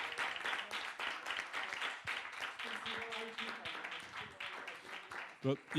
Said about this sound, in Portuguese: eu vou pedir a todos uma salva de palmas para a organização e para os patrocinadores